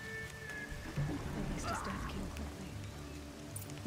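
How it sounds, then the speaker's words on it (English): Steady rain in Horizon Zero Dawn, a soft continuous patter on surfaces that holds level throughout, with game sounds mixed in and no one talking. "this rain is not helping either"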